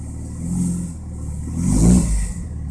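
A freshly built 3S-GTE engine in a Toyota Celica idles low and steady, then revs up briefly to a louder peak before settling back down.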